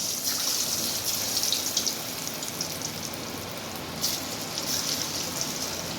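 Chicken chilli pieces fry in half a litre of oil, giving a continuous, fairly close hissing sizzle with crackles that lasts the whole stretch.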